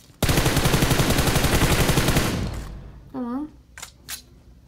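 Sustained burst of M249 machine gun fire in PUBG Mobile, loud rapid rounds for about two seconds that fade out, followed by brief speech and a couple of short sharp sounds.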